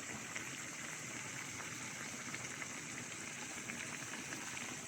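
Water boils steadily in a cooking pot with chicken and vinegar, a faint, continuous bubbling hiss with no break.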